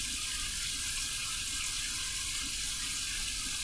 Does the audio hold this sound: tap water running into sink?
yes